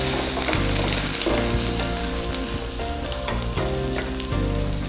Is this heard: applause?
no